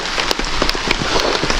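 Rain falls steadily on surfaces in Malana, a mountain village in the Parvati Valley of Himachal Pradesh, a dense close patter with scattered louder drops.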